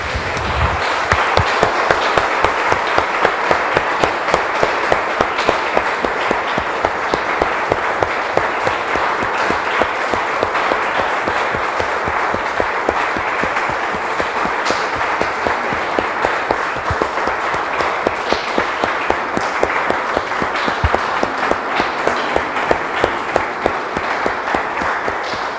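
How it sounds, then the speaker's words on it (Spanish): A church congregation bursts into sustained applause for the Lord, dense steady clapping from many hands lasting throughout, loud and unbroken. "Damos un aplauso, hermanos, al Señor."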